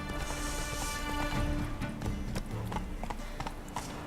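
Hooves clop rhythmically as a horse runs in The Witcher 3: Wild Hunt. The steady beat sits close and clear over the game's ambient sound, with a faint whinny and no talk.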